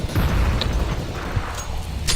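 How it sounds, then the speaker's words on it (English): Grenades detonating in a CS:GO match at the FACEIT London 2018 tournament, a steady low rumbling boom that fills the short stretch, with a sharper burst near the end. "More grenades landing on Yugi."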